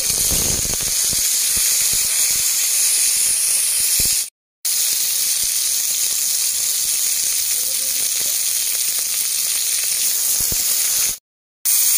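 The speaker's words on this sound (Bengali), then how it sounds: "কড়াইয়ের মধ্যে সরষের তেল দিয়ে দিচ্ছি আলু পটলটা" Potato and pointed gourd fry in mustard oil in a karahi, a steady loud sizzle and hiss running throughout, broken by two brief silent gaps.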